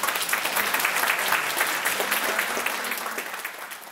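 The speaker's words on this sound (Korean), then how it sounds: "큰 박수로 맞이해 주시기 바랍니다" Students and parents at a gifted-education entrance ceremony lecture applaud to welcome the speaker, a full, dense round of clapping that holds steady and then gradually tapers off.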